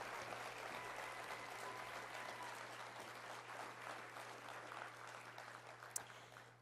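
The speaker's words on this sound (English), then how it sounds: "keep the applause going" Sustained applause for the runners-up at a nursing excellence awards ceremony, a steady mid-level clapping from the audience that holds evenly throughout with a single sharp click near the end.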